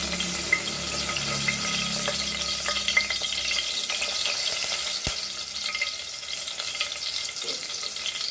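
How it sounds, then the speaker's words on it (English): Curry leaves hit hot oil for a Goan chicken curry, throwing off a loud, steady spattering sizzle with a few sharp pops, close up and without voices. "So oil is hot and we'll add our curry leaves."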